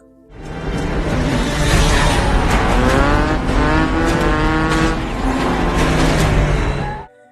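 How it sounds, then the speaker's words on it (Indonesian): A motorcycle engine roars loud and close during a film chase, a sustained revving drone that rises and falls with squealing tones before cutting off abruptly. "Charlie berusaha kabur dengan motornya hingga terjadi aksi kejar-kejaran yang diwarnai baku tembak"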